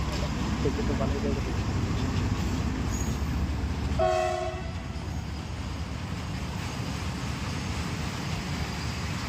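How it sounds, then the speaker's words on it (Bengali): A train passes near Deepor Beel wetland in Guwahati, a loud steady rumble of rolling wagons filling the whole stretch, with a short horn blast sounding midway before the roar continues. "আর একটা রেল আয় পড়ছে"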